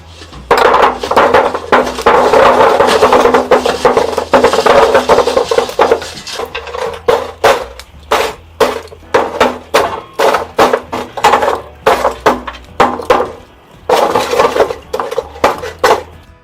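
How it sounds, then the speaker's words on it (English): Lumps of charcoal clatter and knock as they are tipped into a spit rotisserie, a dense rattling pour followed by scattered sharp clinks and thuds, close and loud. "I've got some charcoal firing up outside. Let's go and throw that on the rotisserie."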